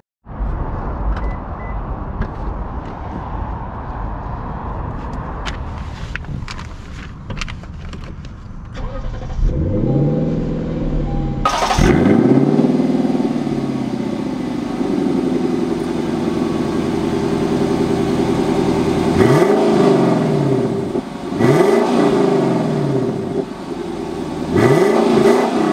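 A Lexus LC 500 fires up with a sharp engine start and rev, then settles into a steady idle before pulling away with several loud, swelling accelerations and gear changes.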